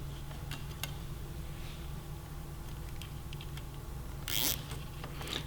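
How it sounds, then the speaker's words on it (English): Cable ties are ratcheted tight on a 2018 Suzuki GSX-R1000 during a fender eliminator install, heard as a few faint zipping clicks and one louder, longer zip near the end, all quiet and close. "Now we're going to get some cable ties out and begin to secure this stuff."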